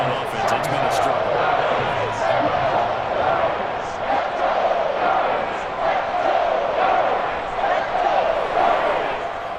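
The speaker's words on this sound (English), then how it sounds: "Oh, you're going slow clap on me." A stadium crowd at a football game beats out a slow clap, rhythmic claps rising from a dense, roaring mass of voices while a commentator speaks over the din.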